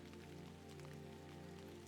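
Steady rain falls in a constant soft hiss, very quiet and even throughout with a low hum beneath it and no voices.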